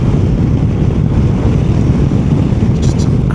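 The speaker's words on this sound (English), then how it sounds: "jeez, that wind! Fighting to keep it on my side of the road." Strong wind roaring past a motorbike rider on an Orkney road, a loud constant buffeting rumble across the whole stretch.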